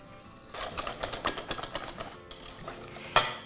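A whisk beats eggs, sugar and flour in a bowl for a flan batter, giving a rapid series of close, light clicking strokes against the bowl, then a short pause and a final sharper clink.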